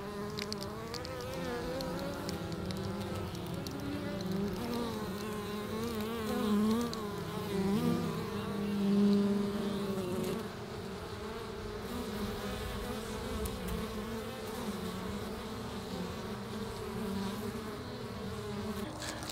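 Honey bees buzz around their beehives in a steady, dense drone of many wings. The sound swells slightly for a few seconds midway and otherwise holds an even, close level throughout, with no voices.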